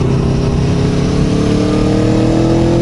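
Aprilia Tuono Factory V4 1100 motorcycle engine running steadily up close, a continuous loud mid-pitched drone with a rich harmonic growl and no speech over it.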